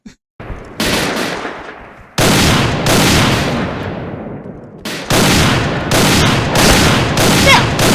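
Gunfire from the video game Point Blank comes in loud, sustained bursts of rapid automatic shots with short pauses between volleys.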